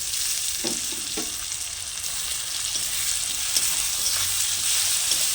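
Spice masala frying with chopped tomato while being stirred, a continuous close sizzle broken by a few scraping strokes of the spatula, with no talking.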